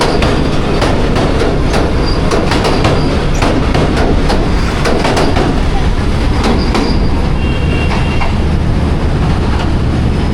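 Allama Iqbal Express train passing close by, a loud continuous roar of rolling wagons with rapid rhythmic wheel clatter and occasional squeal, unbroken for the whole stretch.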